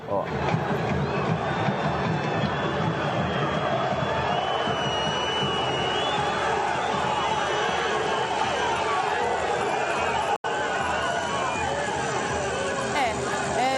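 Large stadium crowd at São Paulo's Morumbi, only partly full, booing loudly in a dense, continuous roar that holds steady throughout, with no break except one brief dropout.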